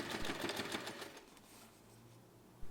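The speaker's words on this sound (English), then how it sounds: "To close the opening, you can either top stitch it with your machine" Sewing machine top stitching the opening of a small fabric snap wallet keychain, a brief soft motor buzz that fades, quiet and close with no talking.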